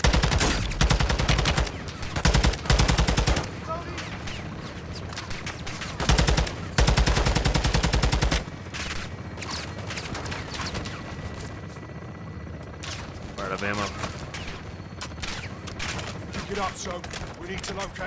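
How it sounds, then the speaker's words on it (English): Heavy automatic gunfire rattles through a building in Call of Duty Modern Warfare 2, with dense bursts of shots in the first half fading to scattered distant firing and battle noise. "People are shooting through this building."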